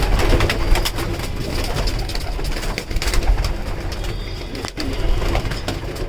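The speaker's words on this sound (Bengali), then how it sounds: "আর একটা কবুতর দেখাই এটাও নর কবুতর" Male racing pigeons coo in soft, low, repeated murmurs close by, over a steady rumbling background that runs through the whole stretch.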